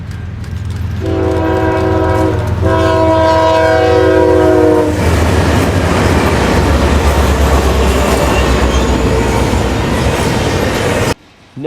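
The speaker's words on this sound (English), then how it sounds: "NS 7560 West passes a stopped intermodal on the Chicagoland" Norfolk Southern 7560 heading west past a stopped intermodal freight, its horn sounding loud and close in two long chord blasts over a deep engine rumble, then the rushing clatter of cars rolling by.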